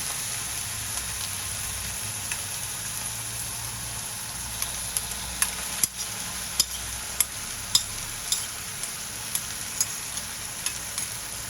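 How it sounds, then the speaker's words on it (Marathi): Dried shrimp (kolim) sautéing with onion and garlic in a pan, a quiet steady sizzle broken by a series of sharp spoon taps and scrapes, no talking. "आणि पुन्हा छान परतून घेऊया"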